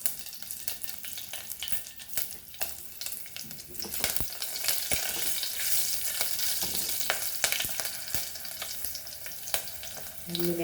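Green chilies sizzling and frying in hot oil for a Goan cabbage stir fry, a steady close crackle with occasional stirring clatter, no talking.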